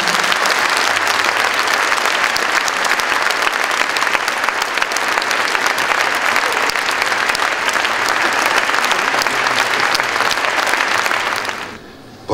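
An audience at a theatre concert breaks into loud, sustained applause, dense clapping that carries on steadily for about twelve seconds before dying away at the end.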